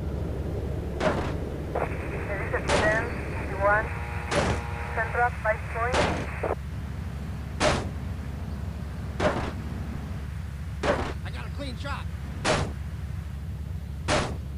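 Gunshots in the video game Grand Theft Auto: Vice City, sharp single reports spaced irregularly every second or two, with mechanical game effects and engine hum underneath and someone talking at times.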